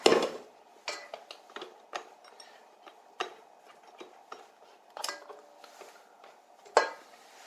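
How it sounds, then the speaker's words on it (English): A dough hook and mixing bowl being scraped down during brioche mixing, with a series of sharp metallic taps and clinks at irregular intervals, fairly close, and a louder knock at the start and near the end. "we scrape it at the bottom of the bowl"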